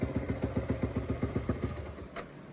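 A motorcycle engine fitted with a new piston idles steadily, its low regular pulsing thumps close and even, easing slightly softer toward the end.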